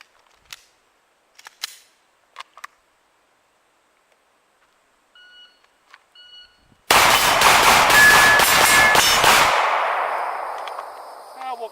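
A Lone Wolf Glock 17 pistol fired in a fast volley of sharp, loud shots over about two seconds, ringing off afterward, preceded by a few faint clicks and a short timer beep.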